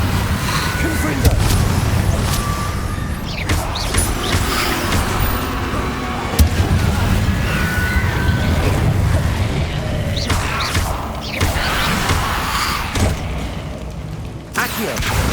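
Confringo explosive spell blasts in Hogwarts Legacy: repeated booming impacts and crashing bursts recur across the stretch amid steady combat noise, with sharp hits scattered irregularly and one louder thump near the middle.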